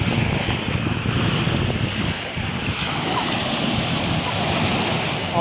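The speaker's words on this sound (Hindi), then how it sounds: "सी का जो ठंडा ठंडा पानी आके पैरों को छू रहा है" Cold sea waves wash in over bare feet at Bournemouth beach on a sunny summer day, a steady close surf wash with wind buffeting the microphone throughout.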